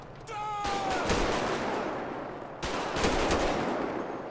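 Gunfire in the video game GTA 5, played with the LSPDFR police mod, as a soldier shoots: two loud rattling bursts of rapid shots, each followed by a lingering noisy tail.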